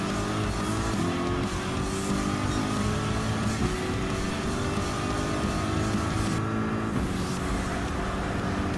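A Corvette race car engine in Gran Turismo 7 during a GT Cup Gr.3 race: a steady, loud engine drone that holds high revs and shifts pitch now and then, with no talk over it.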